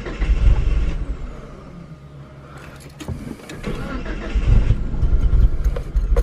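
A Mitsubishi Galant VR4 that had earlier trouble starting cranks, then its engine catches and runs loud and close, rising to a steady idle.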